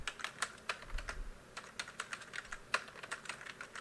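Quick, uneven keystrokes clatter on a computer keyboard as a networking command is entered during router configuration, about a dozen crisp taps close up with no talking.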